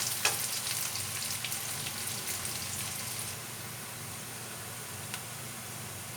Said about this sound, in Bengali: পেঁয়াজটা একটু লাল করে ভাজতে হবে।